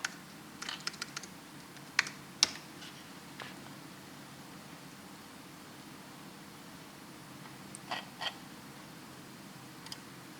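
Sparse key presses on a computer keyboard being tested for faulty keys, with a few quick clicks at the start, two sharper taps, a quiet stretch, then a short burst of clicks near the end.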